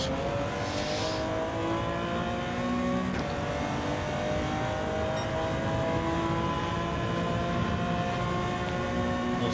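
Porsche race car engine in Gran Turismo 7, played on a G29 wheel setup, revving steadily through rising and falling gear sweeps with a constant loud, layered whine and no voices.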